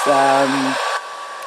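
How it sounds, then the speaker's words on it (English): A simple, basic three-setting blow dryer used for drying natural hair blows with a loud steady whoosh and a low motor hum that cuts down partway through, leaving a quieter airflow. "this is my blow dryer, very simple, very basic, and it's got 3 settings"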